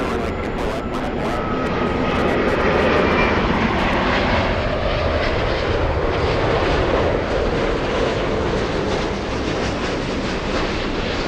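A Delta airliner takes off from runway 24 left at LAX, a loud sustained engine roar that swells and holds for over ten seconds, close and dominant, with faint clicks early on.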